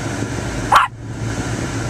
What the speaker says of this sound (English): Always barking at people and things that aren't even there.